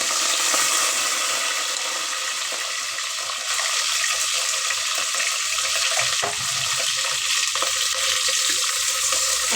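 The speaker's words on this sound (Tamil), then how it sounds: "இப்போ 2 பெரிய வெங்காயம் எடுத்து வச்சுருக்கேன், அதையும் போட்டுக்கலாம்." Onions and green chillies frying in a pan for coconut milk rice, a steady close, loud sizzle and crackle running throughout with brief stirring scrapes.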